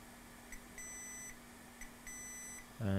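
A multimeter checking for a short on an iPad Air motherboard gives two short, clean continuity beeps in a quiet room, followed by a brief louder clunk.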